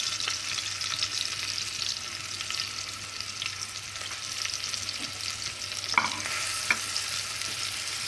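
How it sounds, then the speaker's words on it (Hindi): Chopped onion fries in hot oil for a chicken white korma, a steady close sizzle with occasional stirring scrapes and a couple of sharper pops. "ऑयल गर्म हो चुका है, इसमें मैंने ऑनियन डाल दिया"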